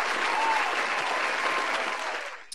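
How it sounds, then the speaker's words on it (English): A live-stream audience applauds in a dense, continuous burst that fades out at the end. "Let's pause for a quick moment of applause for those awesome statistics."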